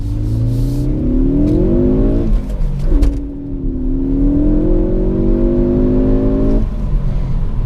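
A 2017 Ford Focus ST accelerates hard in first gear on snowy, slippery roads, with loud rising engine revs heard from inside the cabin, a brief dip mid-way, then climbing again.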